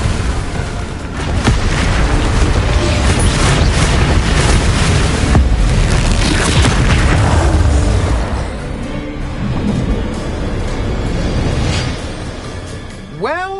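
Confringo and Bombarda spell blasts in the PS5 game Hogwarts Legacy, a dense run of loud booming impacts and rushing bursts over a continuous roar, with a rising whoosh at the end.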